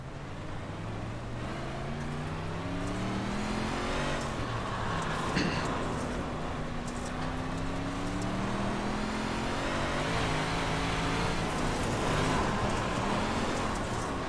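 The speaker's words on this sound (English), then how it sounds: "The car approaching. Watch your mirrors." A dirt modified race car in a racing video game roars steadily at close range, its engine pitch rising and falling as it runs laps, with other cars' engines droning underneath throughout.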